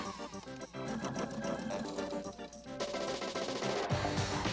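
A Husqvarna Viking Designer 1 sewing and embroidery machine stitches through heavy fabric, a continuous fast mechanical whirring with dense rhythmic needle clatter, fairly quiet and steady throughout.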